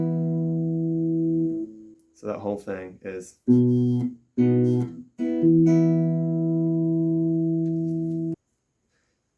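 Slide-style acoustic guitar playing a bass figure over E with repeated double stops, sustained ringing notes broken by short plucked runs, close and clear, with someone speaking briefly in the middle.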